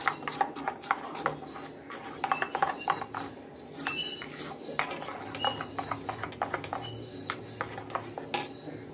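A spoon stirs baking soda into batter in a metal bowl, giving a run of close, irregular clinks and scrapes throughout with no talk.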